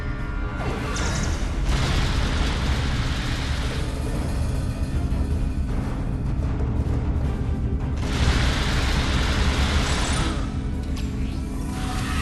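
Disruptor fire strikes the player in a Star Trek video game, a loud, continuous battle din of crashing impacts and booming blasts, with heavier bursts surging near the start and middle.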